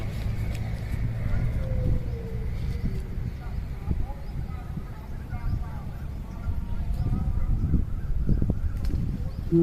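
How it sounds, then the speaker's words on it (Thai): Low road rumble from a passing car swells outdoors beside a canal, the Rapee Phat canal, with faint birds and other background noise throughout. "ก็ขออภัยเสียงรถด้วยนะครับ"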